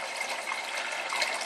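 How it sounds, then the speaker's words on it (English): A steady rush of water pours from a DIY PVC overflow pipe into a 10 gallon sump refugium. The splashing stays constant, close and bright, with no talk. "so it's pumping full blast, and as you can see, there's a ton of water pumping out of here"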